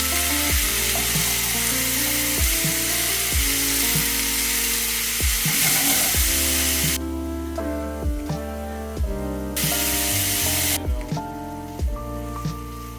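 Ground beef sizzles in a pan with onion, ginger, garlic and cashews, giving a steady hiss beneath louder rhythmic background music.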